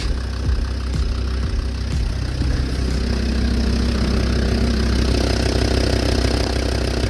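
A Land Rover Discovery 2 engine idles while warming up, a steady low rumble with a faint rhythmic knock running through it, close and continuous without any talking.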